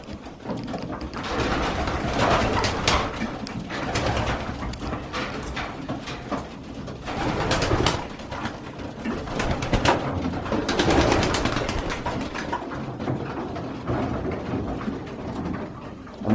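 Racing pigeons at a loft feed after a three-hour flight, with a steady bed of soft cooing, pecking and shuffling that holds fairly close and constant throughout.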